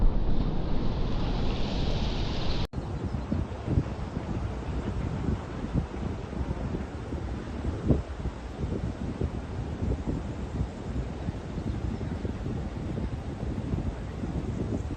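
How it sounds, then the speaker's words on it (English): Waves from Hurricane Beryl roll and break on the shore in Aruba, a continuous roaring wash of surf mixed with gusty wind buffeting the microphone. "Guys, there's some nice waves rolling in."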